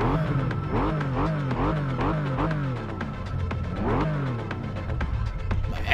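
A car engine revs repeatedly in the video game Test Drive Unlimited 2, rising and falling in pitch through several bursts, loud and close with a steady throbbing rumble underneath.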